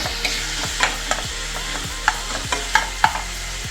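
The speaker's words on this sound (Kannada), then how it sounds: "ಈರುಳ್ಳಿ ಬೆಳ್ಳುಳ್ಳಿ ಹುರ್ಕೋಬೇಕು." Onion and garlic sizzle steadily in hot oil while a spatula scrapes and stirs the pan in a regular rhythm, close and fairly loud.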